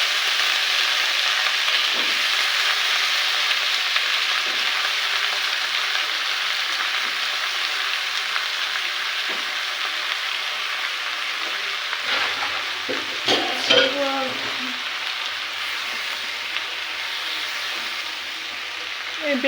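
Eggplant fries in a pan with a constant close sizzle, broken by a few scraping stirs of a spatula near the end.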